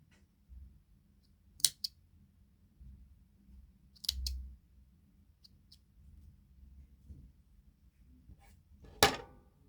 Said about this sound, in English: I'm going to just cut it.